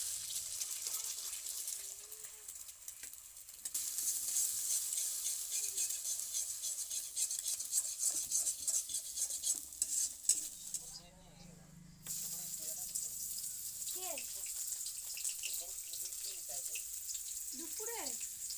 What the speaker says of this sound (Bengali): কড়াইটা গরম করে নিয়ে তার মধ্যে একটু তেল দিয়ে আমি ডিমটা দিয়ে দিয়েছি। ডিমটা একটু ভালো করে ভেজে নেব।